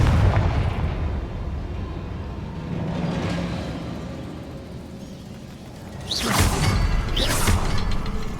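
A Confringo fire spell in Hogwarts Legacy lets out a whooshing blast and booming explosion that hits loudly around the middle of the moment, with a rumbling, crackling aftermath.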